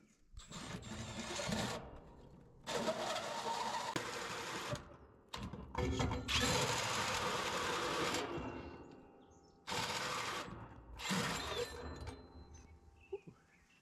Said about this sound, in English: That little drill doesn't like that.